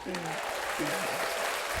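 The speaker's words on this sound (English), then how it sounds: "And then let's clap it up for myself." Brief burst of applause and clapping, with voices talking and calling out over it.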